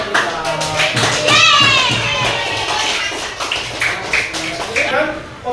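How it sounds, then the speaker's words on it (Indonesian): Children clap their hands in a classroom for their friends' drawings, a dense ragged patter mixed with kids' voices and chatter throughout. "tepuk tangan ya untuk gambar dari teman-teman kita"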